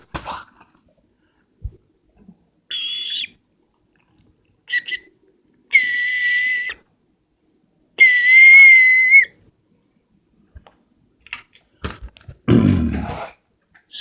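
Emergency signal whistles sound in a series of short, shrill, steady blasts separated by pauses, the longest near the end, followed by a brief noisy rustle.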